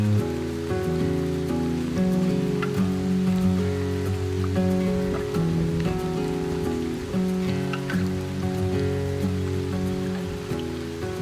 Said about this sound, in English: it rained a little bit more than I anticipated when I left